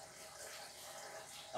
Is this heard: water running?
yes